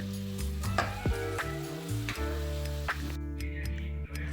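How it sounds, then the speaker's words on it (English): Fried tripe (matumbo) with greens sizzles in a pan while being stirred, a steady close sizzle under scattered clicks and scrapes of the spoon, with a low tonal hum running underneath. "Stir properly for salt to go evenly"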